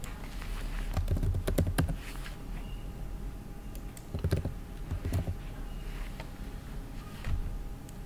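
Fingers type on a computer keyboard to enter a Wi-Fi name and password, producing close, crisp clicks in quick irregular bursts with short pauses between them, over a quiet room hum.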